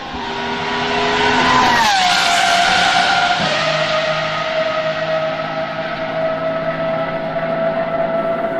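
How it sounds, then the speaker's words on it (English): A Pagani Huayra R with a naturally aspirated 6-litre V12 screams loud and close, its high engine note falling as it shifts, then holding a steady roaring tone with a tire squeal, no voices. "We're talking 6 litre V12, and no, it hasn't got turbos, it's naturally aspirated, so it sounds like this."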